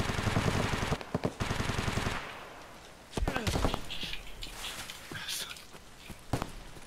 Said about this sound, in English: That's a massive gun, though.